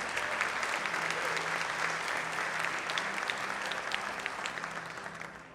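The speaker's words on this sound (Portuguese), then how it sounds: "Se você crê, aplauda ao Senhor em nome de Jesus" A church congregation bursts into dense, sustained applause during a sermon, many hands clapping steadily at close range before gradually tapering off near the end.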